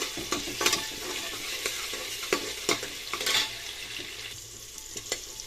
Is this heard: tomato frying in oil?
yes